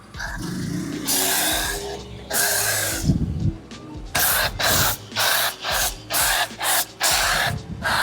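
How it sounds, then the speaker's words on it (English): A spray bottle hisses soap in a run of short, evenly spaced squirts, close and clear, after a longer spray near the start. "I'm gonna spray a little bit more at the bottom."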